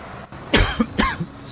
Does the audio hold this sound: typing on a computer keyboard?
no